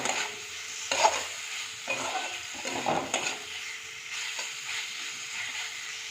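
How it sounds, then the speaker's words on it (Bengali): Spices fried with a little salt in a pan, a moderate sizzle broken by repeated spatula scrapes and stirring strokes at an uneven pace, fairly close. "মশলার সাথে একটু ভালো করে কষিয়ে নেবো"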